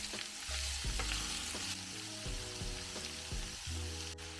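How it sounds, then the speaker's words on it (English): Thinly sliced onions sizzle and fry in a hot pan alongside seared pork, a steady loud crackle with repeated scraping stir strokes throughout, no talking. "I added in the thinly sliced onions and started bringing them to the bottom of the pan"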